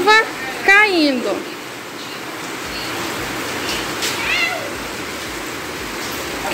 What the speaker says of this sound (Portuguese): E a chuva caindo.